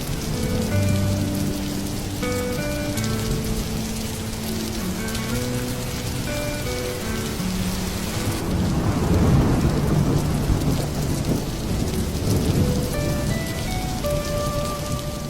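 Rain pours hard during a cartoon thunderstorm, a loud continuous wash with a deep rumble of thunder rising midway, under a light melodic music bed.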